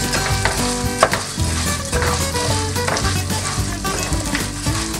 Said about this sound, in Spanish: Y aquí vamos a poner que se dore el arroz.